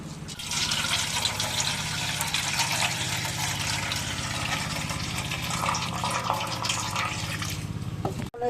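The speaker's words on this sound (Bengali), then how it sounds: "কড়াইটা ধুয়ে নেই" Tap water runs steadily and strongly for about eight seconds while a wok is rinsed, with no talking.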